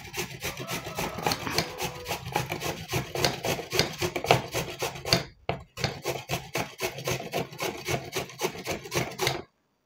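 Raw potato with its skin on rubbed hard against a metal grater, a steady run of rapid rasping strokes close up, with a brief pause midway before the scraping resumes and then stops.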